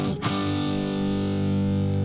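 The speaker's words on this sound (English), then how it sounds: "If you put too much low end in, go into distortion, that doesn't sound so cool." An electric guitar played through a digital clean/crunch amp simulation sounds heavily distorted with boomy low end. A single loud, sustained chord rings out with a thick, buzzy tone and no voice over it.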